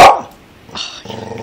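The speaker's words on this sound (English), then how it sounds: "You're just barking to bark now." A pitbull barks sharply once up close, followed after a short pause by a couple of fainter, yipping barks with growly overtones.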